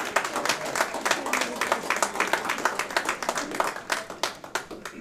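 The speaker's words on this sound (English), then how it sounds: "would you please give another round of applause?" Audience applause at a school district board meeting, a steady burst of many hands clapping that fills the room, moderately loud and continuous with no talking over it.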